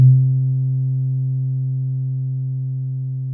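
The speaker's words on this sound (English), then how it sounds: "when I let off the button, the filter will close off before the amp finishes playing the sound" A single Elektron Digitakt synth bass note sounds as a deep, smooth, steady tone, starting with a soft attack and slowly fading over a few seconds, heard alone with no talk.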